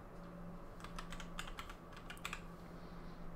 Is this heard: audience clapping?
no